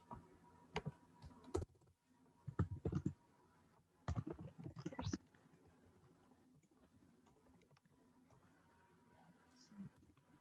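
Typing on a computer keyboard in quiet bursts of clustered key clicks, separated by pauses and light room noise, with soft speech in the background.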